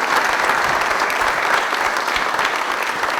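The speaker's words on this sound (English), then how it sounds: "So everybody give a big round of applause to Rolf Johnson." A crowd applauds Rolf Johnson of Al Johnson's Swedish Restaurant in Sister Bay, steady, dense clapping from many hands throughout, with no voices on top.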